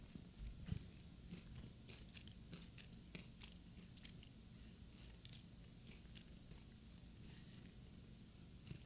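Someone munches on a crunchy snack close to the mic, with irregular soft bites and chewing over a quiet background hum.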